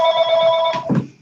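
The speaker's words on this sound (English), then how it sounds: "There's Trish's phone." A telephone rings with a steady electronic tone for under a second, close by in a room, then cuts off, followed by a brief rustle.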